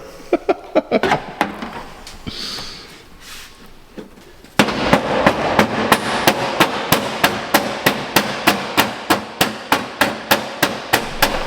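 A hammer strikes a car bumper, sparse irregular knocks at first, then a long run of loud, evenly spaced metallic blows in a steady rhythm, close by and without talk.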